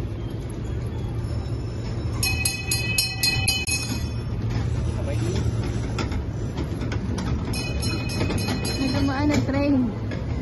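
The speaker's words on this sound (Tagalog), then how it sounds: "Dumaan na train." A train passes by in Dubai, its rumble running steadily beneath busy crowd noise and people talking, with bright beeps and chimes from nearby.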